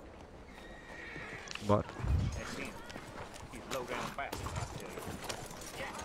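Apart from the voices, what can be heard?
horse hooves and neighing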